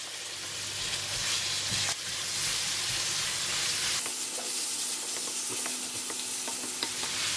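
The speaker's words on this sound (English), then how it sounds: "We fry all the ingredients until it release all the nice fragrance." Onions with garlic and ginger paste fry in a pan for mutton curry, a steady close sizzle with stirring scrapes, a brief louder burst near two seconds and crisper crackle in the second half.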